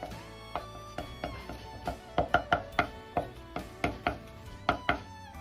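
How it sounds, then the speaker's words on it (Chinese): A kitchen knife mincing crushed garlic on a chopping board while a chef prepares home-style spicy tofu pudding with pork slices: a quick, uneven series of around twenty crisp, close chops, some in rapid clusters. No speech. "把蒜的根部切掉不要，再拍破，然后剁碎。"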